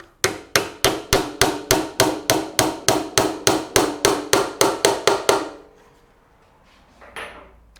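A wooden dowel is hammered into a dovetail drawer to hold the back panel, about seventeen sharp, evenly spaced taps at close range, each ringing briefly, then quiet with a faint rustle at the end.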